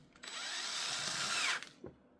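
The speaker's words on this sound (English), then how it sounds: "have you ever tried to drill through some kind of tissue or a wool like this?" A power drill whirs steadily for over a second while boring into fabric or wool, starting and stopping abruptly with a high whining motor tone, close and fairly loud.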